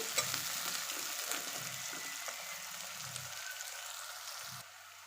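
Sliced onions frying in a pan for an egg and dried fish curry, giving a steady close sizzle with occasional soft stirring thumps, no voices.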